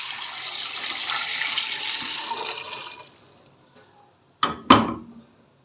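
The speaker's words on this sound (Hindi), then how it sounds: "3 गिलास पानी डाल रही हूँ।" Water pours steadily into a pressure cooker for about three seconds while making Punjabi-style rajma at home, then stops. Two sharp, close clanks follow after a short pause.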